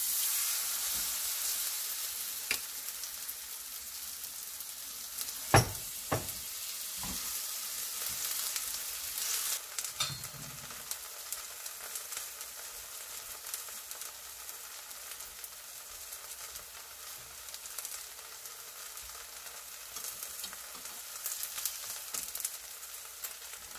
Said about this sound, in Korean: 기름이 달구어지고 반죽을 넣고 얇게 펴줍니다